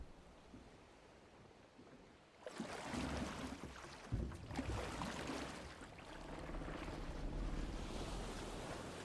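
A character knocked into water in Final Fantasy XVI, heard as a sudden rush of broadband splashing and churning water that swells after a quiet start and keeps washing on, loud and close, with no talk.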